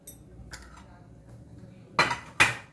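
Salt, red chilli powder, turmeric and coriander powder are mixed in a bowl for pomfret rava fry, with light clinks followed by two sharp utensil knocks against the dish, and faint talking nearby.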